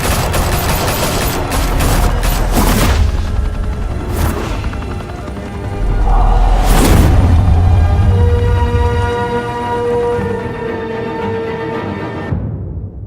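Gunfire in Batman: The Telltale Series, loud sustained bursts of shots and crashing impacts layered over a dense score, with rapid volleys near the start and around the middle before the sound cuts off.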